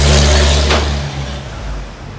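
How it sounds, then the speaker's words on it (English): On an evening street in Midtown New York City, a truck roars past close by, a loud heavy engine rumble that peaks early and then fades to a lower drone. "That truck is a lot louder than it looks like it should be."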